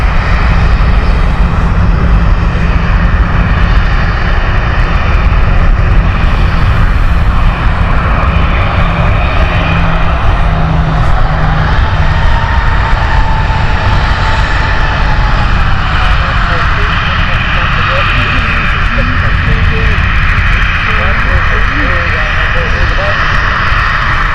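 TUI and Ryanair airliners taxi past one after another at Stansted Airport, a loud, close, continuous roar of jet engines that swells and fades, with people talking over it.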